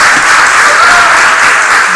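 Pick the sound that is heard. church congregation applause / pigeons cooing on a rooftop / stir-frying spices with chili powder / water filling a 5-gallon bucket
church congregation applause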